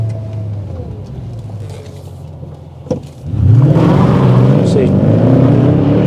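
A Mercedes ML63 AMG pulls away hard from a standing launch. After a settled idle under a brief spoken word, the V8 roars up loud and close, holding a strong rising engine note through to the end.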